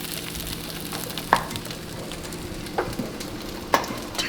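Food frying in a pan during a breakfast cook, pieces being dipped, flipped and laid flat side down; a steady low sizzle runs throughout, broken by a few sharp clacks and taps of utensils, with no voices.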